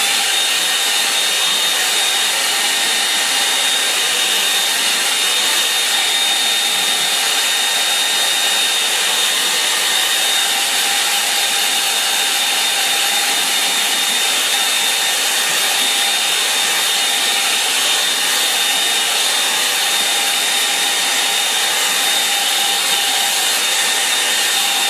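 A hair dryer blows steadily to dry a watercolour painting, a loud continuous whirring hiss held close for the whole stretch with no talk.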